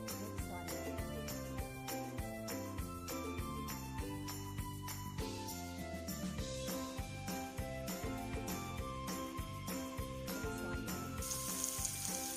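Chopped onion sizzles steadily in a hot pan, a soft continuous frying hiss running under loud background music for the whole stretch.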